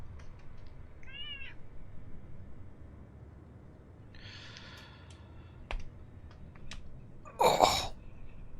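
An old, cranky female cat gives a short meow, a longer drawn-out meow a few seconds later and a louder sneeze-like burst near the end, close and indoors with small clicks between them.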